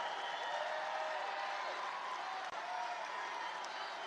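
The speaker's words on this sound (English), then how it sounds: "It's a big crowd of people." Large crowd at a Trump rally in Detroit, Michigan: a dense, sustained wash of applause and cheering, distant and steady throughout without a break.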